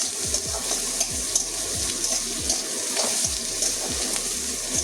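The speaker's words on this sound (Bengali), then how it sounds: "পেঁয়াজের কাঁচা গন্ধ যাওয়া পর্যন্ত ভাজবো।" Onions frying in a pan with a steady hiss and sizzle while a spoon stirs and scrapes at a regular rhythm, close up and moderately loud, with no voices.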